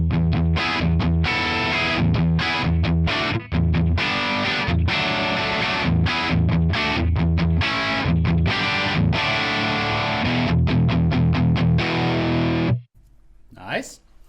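An electric guitar plays through an amp capture on a crunch setting with a noise gate and no reverb, loud, distorted chords and riffs chopped by gated silences, ending with a brief spoken aside.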